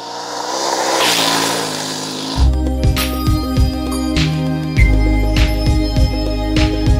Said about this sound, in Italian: Guardate che sciame di moto, oggi 200 km di off-road